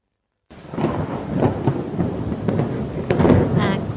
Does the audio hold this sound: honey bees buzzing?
no